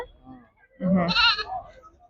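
A goat at a goat market gives one loud, close, wavering bleat, with quiet voices and faint market noise before it.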